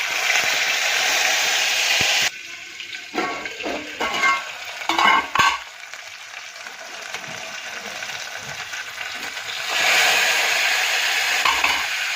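Oil sizzles loudly as mustard seeds, cumin, curry leaves and ginger-garlic paste go in to temper dal, with a steady frying hiss, a quieter middle stretch of clatter and crackle, then a renewed sizzle near the end.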